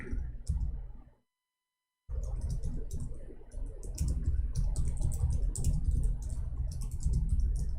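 Rapid, dense clicking of keys on a computer keyboard, close and fairly loud, pauses briefly for about a second and then continues steadily.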